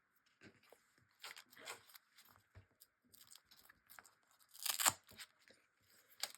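Velcro backing is peeled off a handmade paper folio in short, close, quiet tearing and crackling bursts, with one louder rip near the end.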